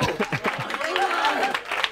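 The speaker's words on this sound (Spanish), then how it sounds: "Un fuerte aplauso para Luis, nuestro villano." Studio audience clapping for Luis on a comedy show, a short burst of applause mixed with lively voices and chatter.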